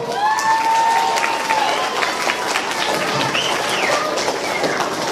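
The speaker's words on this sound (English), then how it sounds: "give them a round of applause." Audience applauding for third-grade math competition contestants, a loud, sustained round of clapping with scattered cheers from a crowd in a school setting.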